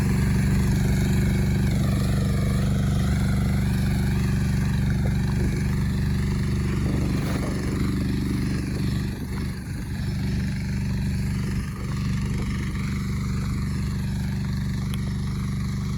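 A FORTE walk-behind tractor harrows a potato field, its engine running steadily and loudly for the whole stretch, a constant low drone with slight fluctuations in load.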